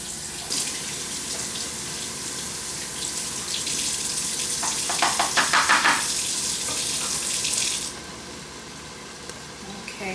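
Tap water runs steadily over lentils being rinsed, a close, continuous splashing hiss with some rattling as the lentils shift, before the flow stops near the end, no talking.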